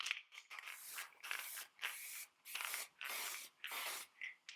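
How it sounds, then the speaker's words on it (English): Hairspray used as a fixative hisses onto a pounced drawing in about seven short bursts, each a second or less, with brief silences between, close and fairly loud. "So you want to spray this at a distance."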